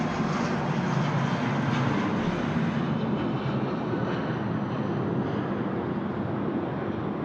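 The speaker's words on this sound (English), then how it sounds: "Jetstar A320, fanging down 3-4 left at a rate of knots." A Jetstar Airbus A320 takes off at night from Sydney Airport, its engines giving a loud, steady broadband roar that holds at a constant level throughout, with no talk over it.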